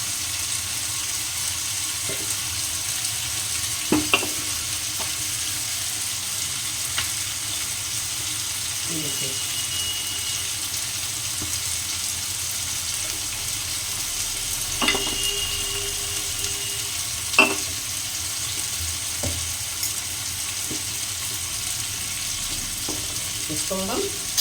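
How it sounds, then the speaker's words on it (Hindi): Spices roasting in a pan sizzle softly and steadily. Occasional sharp scrapes and knocks of stirring break through at intervals over a faint background hum. "इसको हम उसी में डाल के इसको हम भून लेंगे सारे मसाले को।"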